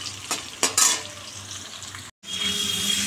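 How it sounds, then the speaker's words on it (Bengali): Cut potatoes frying in a pan for aloo potoler dalna, with a loud, steady sizzle and a few scraping stir strokes near the start, close by, with a brief dropout near the end. "একটু ভেজে নিই লালটা আলু করে, আলুটা ভেজে তারপরে পটলটা দিয়ে দেবো"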